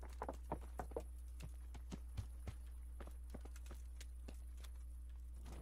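Horse hooves walking in the medieval video game Kingdom Come: Deliverance, a steady clip-clop of single hoof strikes over a constant low background hum.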